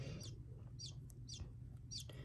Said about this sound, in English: Wait, it's a baby chicken.